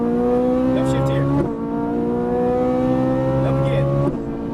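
Ferrari 458 Italia engine on a track, strong steady harmonic drone climbing in pitch under throttle, with two quick upshift breaks where the tone drops and builds again; someone talks over it.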